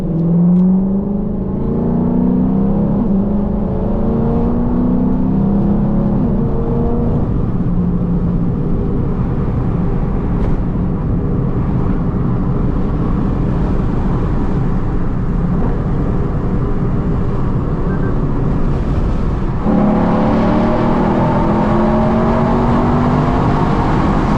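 A V8 car engine roars at close range, revving up through rising pitch, easing off, then blipping and downshifting near the end, loud and continuous with no voices.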